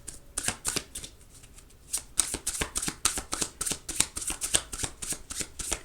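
A tarot card deck is shuffled close up, with a steady run of crisp riffling flutters and soft slaps that repeat in quick bursts without pause.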